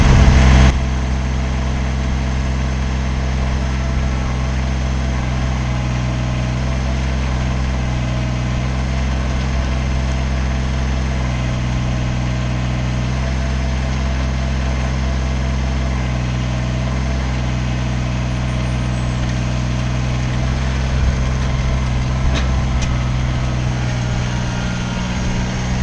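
The engine of a Kubota BX compact tractor with fluid-filled tires runs steadily at close range as the loader bucket is bounced, giving a loud, constant droning hum with little change throughout.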